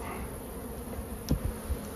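Honey bees buzz around a hive in a low, steady drone, with a few brief bumps and taps close by and no voices.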